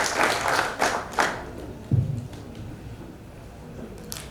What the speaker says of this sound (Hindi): तालियों के साथ स्वागत कीजिए श्री रॉबिन कोलिटा सर का।